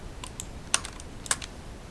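Clicks of a computer mouse: two sharp, close double-click pairs, evenly spaced and separated by near silence over a faint background hiss.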